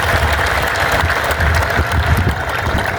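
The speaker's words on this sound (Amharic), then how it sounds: "እስቲ ለነሱም አንድ ጭብጨባ እናድርግ።" Audience applause at an Easter celebration held by evangelical churches in Asella, a loud, dense, sustained clapping from a large crowd that stays steady throughout.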